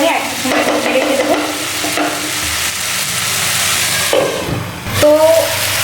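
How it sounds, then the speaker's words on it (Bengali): A spice masala frying in a pan, loud and close, stirred with repeated scraping strokes over a continuous sizzle, with a faint voice briefly under it. "আর এদিকে মশলাটাও প্রায় ফুটিয়ে গেছে, মানে আমার কষানো হয়েই গেছে।"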